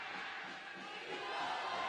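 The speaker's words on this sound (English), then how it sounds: "The crowd trying to rally the home team into this one" Home fans roar at a Sacramento Republic FC soccer match against Orange County Blues, a dense, steady wash of crowd noise that swells slightly louder toward the end, with no distinct voices standing out.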